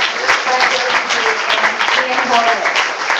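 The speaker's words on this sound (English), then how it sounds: "Round of applause for" An audience claps for local live painting artists, a dense, sustained wash of hands at an event that carries on steadily at close range without fading.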